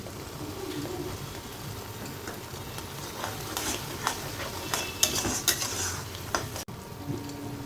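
Spices frying and being stirred in a pan with turmeric and chili powder water for vegetarian paneer butter masala, giving a steady close sizzle with scraping stir strokes and utensil clinks.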